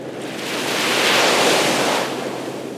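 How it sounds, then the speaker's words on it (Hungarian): Big waves break over the coral reef ringing Mauritius, a loud rushing surf that swells to a peak and then eases off, with some wind noise and no voices. "A korallzátony megtöri a vizet és több méteres, gyönyörű hullámokat gerjeszt"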